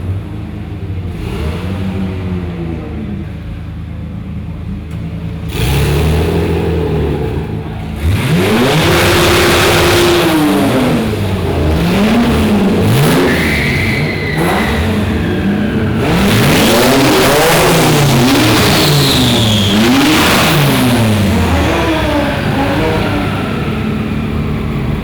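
Dodge cars at a Roadkill Nights drag event revving hard, repeated rising and falling engine sweeps, some passing close and loud, others layered further off, with crowd noise beneath and no clear talking.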